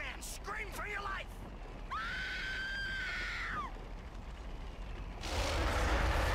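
Screaming in the King Kong video game: a sustained high shriek in the middle, with shorter cries before it and a burst of loud noise after, all fairly close.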